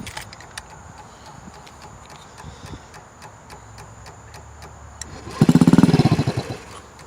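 A Honda Ruckus scooter engine, freshly fitted with new valve shims after failing to start, ticks over faintly with a few clicks before a loud burst of cranking and firing catches near the end, close and without talk.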